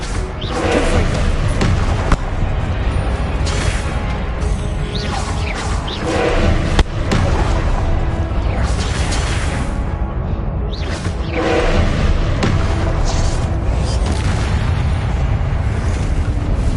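Confringo fire spell blasts in the Hogwarts Legacy video game, a dense, loud rumbling barrage of booming explosions and crackling impacts that continues without a break.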